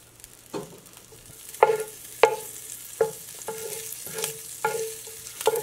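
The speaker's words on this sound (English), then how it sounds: "we're going to saute those for a few minutes" Vegetables sautéing in a soup pot, a low sizzle broken by regular scraping strokes of a spoon roughly every half second to second, close and moderately loud.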